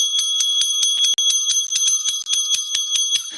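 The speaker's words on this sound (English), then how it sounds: "I'm going to ring that fucking bell out, man." A hand bell is rung rapidly and repeatedly in a fast, bright, steady jingling rhythm, close and loud, with no talk.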